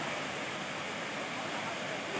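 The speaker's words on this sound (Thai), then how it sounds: "น้ำตกเอราวันครับ มีชั้นสามครับ" Erawan waterfall in Thailand flowing with steady, dense broadband rushing of falling water that stays even and close throughout, with no voices over it.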